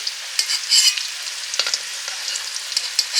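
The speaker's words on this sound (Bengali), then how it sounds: "ঝোলের আলুগুলো সেদ্ধ করে নিয়েছিলাম, একটু তেলে ভেজে নিলাম।" Boiled potatoes frying in a little oil, a close, steady sizzle broken by louder stirring scrapes and spatters through the stretch, with no voices.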